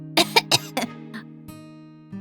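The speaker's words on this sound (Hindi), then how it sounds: "ग्रिल के धुएं से उन्हें थोड़ी खांसी" A person coughs from grill smoke in a quick series of four harsh bursts, then a softer cough and a faint throat sound against a steady low hum.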